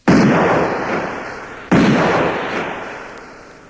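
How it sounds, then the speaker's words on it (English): Two sharp, loud gunshots about a second and a half apart, each ringing out and decaying slowly, used as a sound effect in a Disney storybook audiobook. "As it disappeared, 2 shots rang out."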